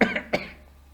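A man coughs twice in quick succession, close and sharp, the second cough shorter, then quiet room tone.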